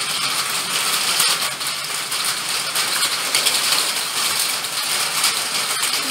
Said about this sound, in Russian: А у нас град пошел.